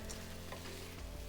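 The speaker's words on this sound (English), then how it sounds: "So now we're going to stir fry everything together" Frozen vegetables stir frying in a pan give a brief, faint sizzle with soft stirring scrapes and no voices.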